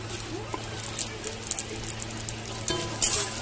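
Chopped potatoes and green chillies frying with onions in a pan, a soft sizzle with light stirring scrapes and a couple of louder clatters near the end, fairly close and moderately quiet.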